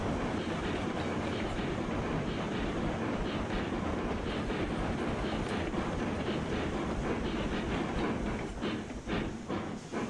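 A train rolls on rails in the Railroads Online video game, a steady loud rumble with rhythmic clickety-clack of wheels over rail joints that continues throughout, easing slightly near the end.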